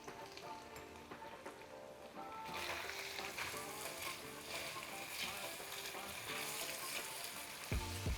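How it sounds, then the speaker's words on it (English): A pan of chana gashi curry simmers on the stove, a steady close sizzle and bubbling crackle that grows louder and fuller partway through. "Let's take a look at our chana gashi. It's simmering well."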